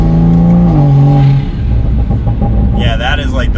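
A Toyota Supra A90 engine revs while downshifting, with a loud, close engine note that climbs and steps in pitch, then settles into a rumbling drone. Brief higher-pitched noises come in near the end.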